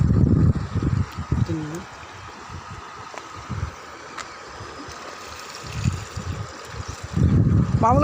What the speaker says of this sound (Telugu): సో చూడండి ఫ్లో ఎక్కువ ఎగుతుంది, వాటర్ ఫ్లో ఎట్లా వస్తుంది, చాలా హెవీగా అయింది